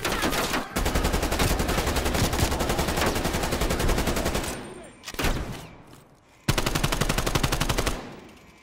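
Rapid automatic gunfire from weapons in the shooter game Call of Duty: Cold War, loud and sustained with dense bursts, a short lull near the middle, then another heavy burst near the end.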